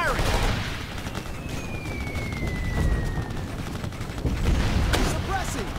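Rapid gunfire and explosive booms in the war video game Operation Flashpoint: Red River, loud bursts and sharp reports rising and falling over a dense battle din, with shouted soldier voices mixed in.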